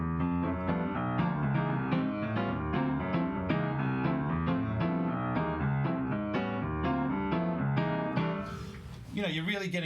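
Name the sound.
piano playing bebop chord progression, no guitar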